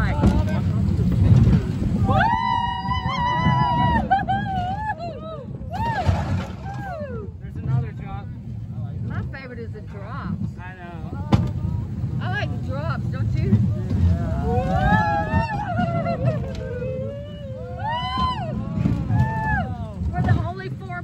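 A roller coaster plunges down a drop with riders aboard, heavy wind and rumbling roar underneath as people yell, shriek and talk loudly throughout.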